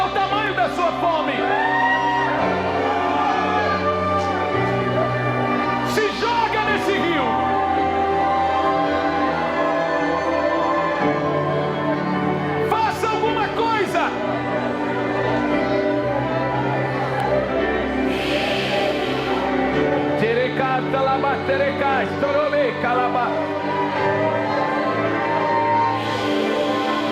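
A church congregation at a revival service shouts and whoops loudly, a dense, sustained wall of overlapping yells and cries over music, with voices rising in waves and no single speaker standing out.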